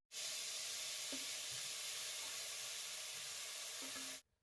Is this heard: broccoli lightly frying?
yes